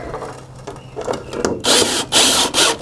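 Hammer drill with a long 6-inch 5/16 inch bit driving into a surface near flashing, heard as three loud, sustained bursts of grinding drilling after some lighter scraping and handling noises, no talking.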